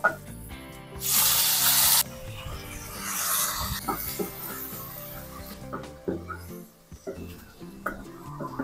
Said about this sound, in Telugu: ఇక్కడ నేను డ్రై కర్రీ లీవ్స్ యాడ్ చేసుకుంటున్నాను.